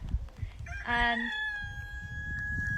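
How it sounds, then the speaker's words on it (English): A rooster crows once on a farm, loud and drawn out, over faint background clucking and rustling from nearby chickens. "check out the chickens"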